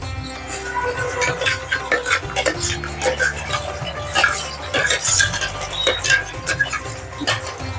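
Onion paste being stirred into a natu kodi pulusu, a country chicken curry, in a pot: repeated scraping and metallic clinks of a spoon against the pan, close and busy, with no talk.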